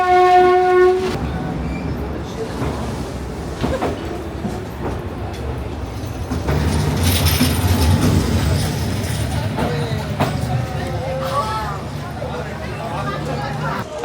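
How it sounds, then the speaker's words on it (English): A train in Vietnam sounds a brief tonal horn blast, then rumbles past close by in a long, steady roar with clattering wheels. "I just watched the train go by twice."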